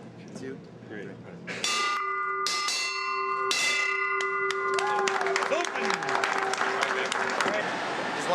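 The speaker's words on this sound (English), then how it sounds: "here with us today to ring the opening bell" Stock exchange opening bell rings loudly in several sustained clangs with ringing overtones, then applause and cheering swell underneath and carry on to the end.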